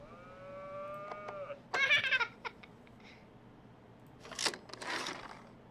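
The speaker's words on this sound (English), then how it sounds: "Farmer Bill plays hide and seek with the cows." Cows moo on a farm in the video game That Dragon, Cancer, with drawn-out lowing calls and a couple of louder, higher bellows set apart by quiet gaps.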